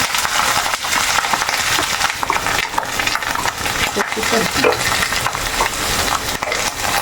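Clam meat coated with turmeric, salt and pepper powder frying in a pan for a Kerala clam pickle, with a steady dense sizzle and crackle running throughout over broad hiss, while a voice talks over it.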